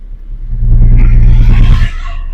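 A car in first gear pulls away after the handbrake is released during a driving road test, giving a close, low engine rumble that swells briefly and then eases to a steady hum.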